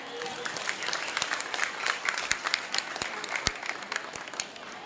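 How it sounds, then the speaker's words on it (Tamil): Audience applause at a Sri Krishna Jayanthi dance competition program in Kumbakonam, a dense steady patter of many hands clapping with sharp individual claps standing out, continuous and fairly close throughout. "அவர்களுக்கு நம்முடைய மனமார்ந்த பாராட்டுகளை நாம் இப்போது கைத்தட்டல் மூலம் தெரிவிக்கலாமே."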